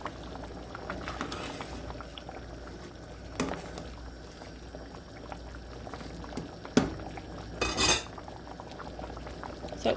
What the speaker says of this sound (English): So I'm just gonna let that sit and boil for a little while longer.